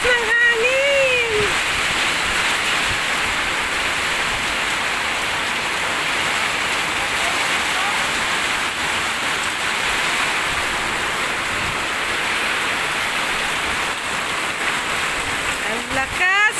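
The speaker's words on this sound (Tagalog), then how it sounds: "Ang lakas ng ulan." Heavy rain pours down in a dense, steady hiss that never lets up, loud and close, with a brief whistle-like sound at the start and end.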